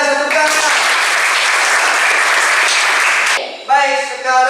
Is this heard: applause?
yes